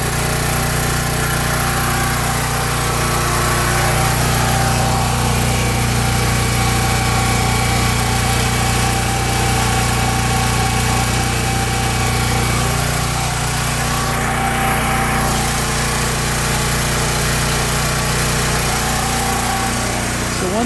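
A Honda knock-off 4000-watt portable generator engine runs at a steady, loud drone throughout, with constant mechanical hum and vibration and a brief hiss partway through.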